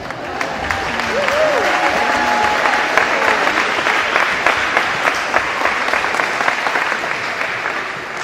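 Students at a Mennonite school applaud during a recognition of their athletic director, a sustained wash of crowd clapping that swells and holds steady, with some talk and a few vocal sounds over it.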